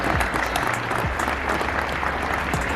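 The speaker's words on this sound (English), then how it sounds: "I appreciate the clapping" Dense, steady applause from a convention audience at a Canadian Labour Congress gathering, many hands clapping at once in a large hall, continuous throughout with no break.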